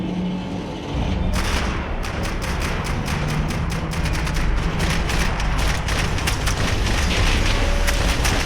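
Rapid gunfire in a shootout from the video game Max Payne 3, a dense barrage of sharp overlapping shots and cracks that starts after a brief lead-in and keeps up loud and continuous throughout.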